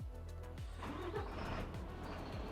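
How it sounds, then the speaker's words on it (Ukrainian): A Mercedes car engine turns over and catches, settling into a steady low idle with a rhythmic throb, fairly close and loud. "Ух, Мерседес завівся."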